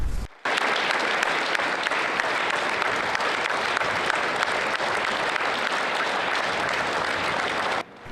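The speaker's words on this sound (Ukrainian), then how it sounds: "Театральна родина традиційно попрощалася з Андрієм Вавренчуком бурхливими оплесками" Loud, sustained applause from a large crowd at a theatre farewell in Rivne, dense clapping that fills the whole stretch without a break, with no voices on top.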